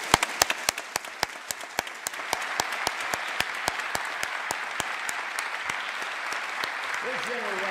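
Audience applause for the South Dakota National Guard at the 2017 State of the State Address, a dense steady clapping that fills the hall from start to finish, with a short voice near the end.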